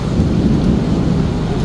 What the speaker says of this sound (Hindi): क्या बादल गरज रहे हैं।